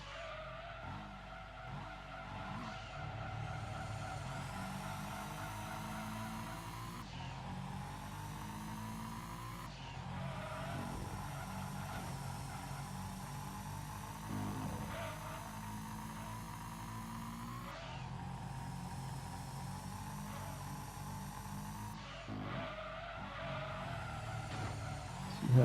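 Fully upgraded Ford Mondeo super touring car lapping a circuit in a racing game, its engine droning steadily at high revs with pitch sweeps at gear changes and corners, continuous and fairly quiet.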